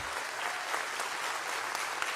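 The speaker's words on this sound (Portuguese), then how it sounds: "Isso, pode aplaudir ao Senhor." A church congregation applauds the Lord during a worship service, a thick, continuous wash of many hands clapping, loud and close for the whole moment.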